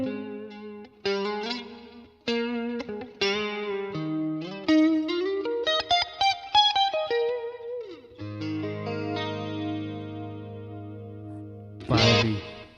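Electric guitar with the distortion switched off, played through chorus and echo effects: a clean, shimmering run of plucked notes and held chords with sliding pitch, loud and up front, ending in a brief scratchy strum.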